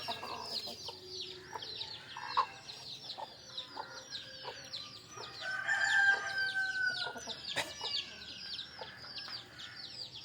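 Country hens cluck and chatter continuously around a rural yard at evening feeding time while a rooster crows loudly partway through, all fairly close with a faint background hum.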